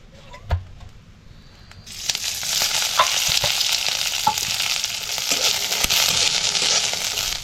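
Garlic roasting in a little oil in a pan: after a quiet start with a single knock, a steady loud sizzle begins and continues with small crackles and pops, close up.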